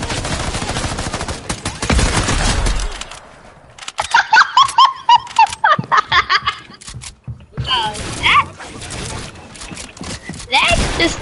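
A big gun fires repeatedly in a video game as a string of loud, punchy bursts, mixed with laughter and talking in between.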